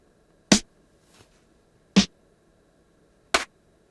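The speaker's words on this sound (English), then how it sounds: "the snare drum is a combination of 3 different percussion sounds" Three separate percussion hits making up a layered snare drum, each a sharp, bright crack played alone with clear pauses between them, plus one faint soft tap.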